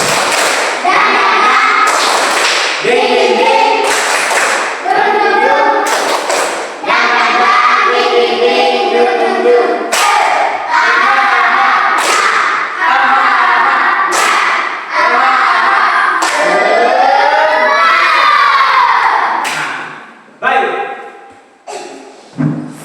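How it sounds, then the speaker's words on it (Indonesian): Schoolchildren in a fourth-grade classroom perform a rhythmic tepuk semangat clapping cheer, sharp patterned bursts of claps alternating with chanted voices, loud and close, with the final seconds trailing off. "Tepuk tangan, tepuk semangat."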